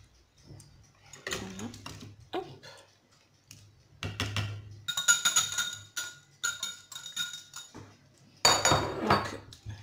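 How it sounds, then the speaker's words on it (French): A whisk clinks and scrapes against a mixing bowl while breaking up tuna for a quick tuna cake, in irregular bursts of clattering metal strokes with short pauses between, close and fairly quiet. "Je les miette un petit peu avec mon fouet"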